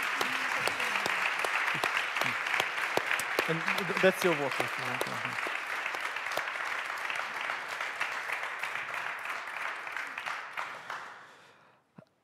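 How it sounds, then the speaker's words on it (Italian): Sustained applause from a large audience welcoming Yuval Noah Harari at a public talk, dense and steady for about eleven seconds before fading out, with a brief spoken voice early on. "vi chiederei di ringraziare Yuval Harari per la sua presenza qui e con un meritatissimo applauso"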